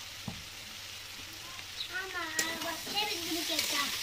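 Spice paste fries and is stirred in a pan, giving a steady sizzle with scraping strokes, while a voice murmurs faintly underneath.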